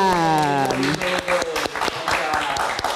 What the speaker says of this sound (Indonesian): Abdul Rahman tepuk tangan